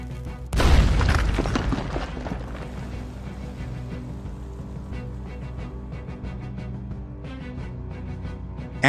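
Dynamite blowing up during a bank robbery in the video game RedM (Red Dead Redemption 2): one loud, deep boom that rumbles and decays over several seconds beneath steady game ambience.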